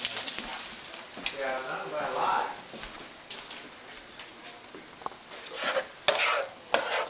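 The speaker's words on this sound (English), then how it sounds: "Now that the beef stock is heated, we are ready to put it into the pan." Heated beef stock poured into a pan for shepherd's pie, with liquid splashing and sizzling, then clinks and scraping of a utensil in the pan; close and moderate in level.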